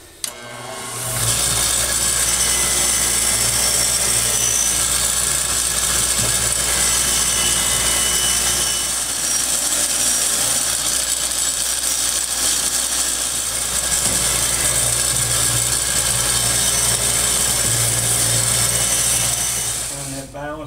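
A power tool, likely a belt sander, runs continuously for about twenty seconds while sharpening a hand tool, giving a loud steady whir with rough grinding texture from start to finish and no speech.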